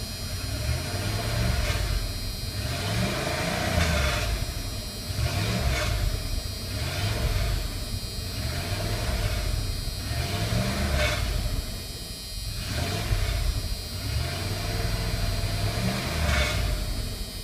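A 1996 Dodge Ram 5.9 gasoline engine with 179,229 miles idles steadily at close range, its low rumble carrying a slight exhaust rattle and a faint recurring pulse, with no voices.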